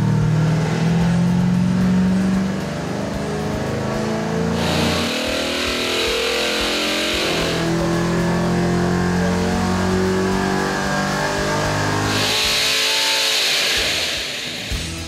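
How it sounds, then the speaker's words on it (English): Racing engine revving hard on a dyno cell during a competition pull at the Engine Masters Challenge, a loud continuous engine roar with rising and falling revs and bursts of high-pitched intake and exhaust noise, no talk. "the engines are installed into one of 2 dyno cells and given a warm-up run"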